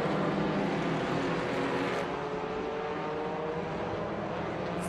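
A classic 1971 Alfa Romeo GTV Junior race car, number 57, runs through the inner loop at Watkins Glen during a vintage race, its engine a steady, loud roar held throughout without any fading away.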